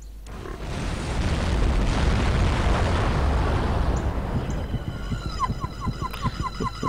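A big explosion in the No One Lives Forever video game roars as a long, loud blast that sustains for several seconds, then breaks into scattered crackling debris and rattling as it fades.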